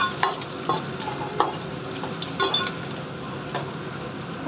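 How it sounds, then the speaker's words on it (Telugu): Onions and whole garam masala spices frying in hot oil for mushroom pulao, with a steady sizzle and repeated spoon scrapes and stirring clinks against the pan, close and alone. "ఇవి కొంచెం వేగాక ఉల్లిపాయలు వేసేసుకున్నామండి. ఒక్కసారి కలుపుకుందామండి."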